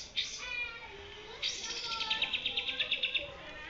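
A white-rumped shama, four months old, gives a whistled call followed by a quick series of repeated chirping notes, close and fairly clear.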